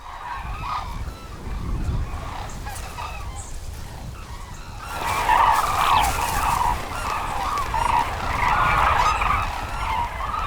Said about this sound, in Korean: 흑두루미들이 갑자기 날아오릅니다